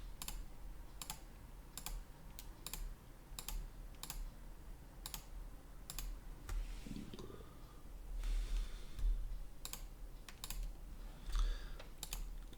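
Keyboard typing and mouse clicks while modelling in Plasticity 3D software, heard as sharp, evenly spaced clicks with short bursts of faster keystrokes, close and fairly quiet.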